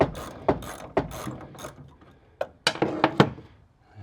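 Clicking ratchet loosening a tight bolt on the steering column of an Avenger GT12 car, heard as a run of close, sharp ratcheting bursts with short pauses, the clicks growing denser toward the end.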